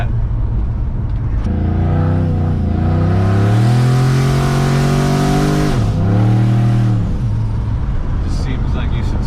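A 600HP turbocharged Yukon accelerates hard, its engine note climbing steadily in pitch, dipping at a shift and rising again, loud and close from inside the cabin.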